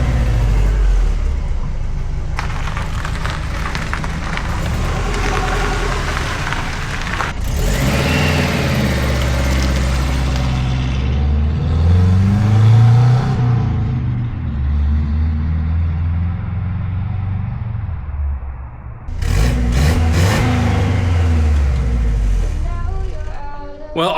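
A 30-year-old Subaru Loyale engine runs and the car pulls away, with a loud near rumble and revving that shift as it moves, a sharp break partway through and clicks near the end.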